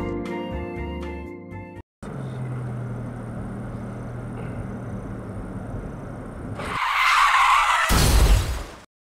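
Real traffic accident at an intersection where a bicycle fails to stop: steady road noise gives way to a loud, rising tire skid near the end, then silence.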